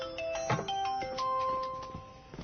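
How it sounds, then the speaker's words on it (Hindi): A phone ringtone plays as a short melodic sequence of tonal chimes, at moderate loudness, with no voices over it. "ताओ का फोन है।"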